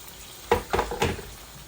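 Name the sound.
pouring water into marrow curry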